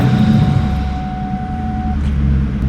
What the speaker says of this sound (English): firing this thing up with no mufflers